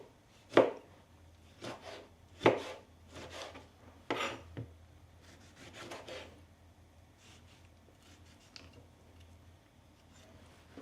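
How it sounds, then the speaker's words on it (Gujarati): Tomatoes are finely chopped with a knife on a board, giving a few sharp, close knife thumps followed by softer, irregular cuts that fade toward the end. "આપણે ટમાટરને પણ કાપી અને રેડી કરી નાખીએ"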